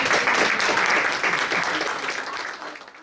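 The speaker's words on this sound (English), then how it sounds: "I just want you guys to give Stephen another round of applause for" An audience at a women's group forum applauds in a sustained round of clapping that gradually fades, with a few voices mixed in.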